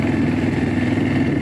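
A Jianshe Puma 250 quad bike, a copy of the Yamaha Bear Tracker, being driven, giving a loud, steady, close engine drone with a rough mechanical rumble and no voices.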